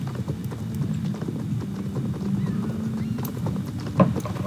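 Horse hooves while riding in the video game Star Stable Online, a steady rhythmic clip-clop of galloping hooves that continues throughout.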